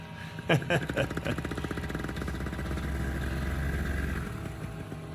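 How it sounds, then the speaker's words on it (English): A paramotor engine at a small fly-in is pulled into life, sputtering through a few rough false starts before catching and settling into a steady, loud buzzing run close by. "So he finally got it running, but I think he wanted to move out of the way so he wasn't blowing everybody to death with his motor."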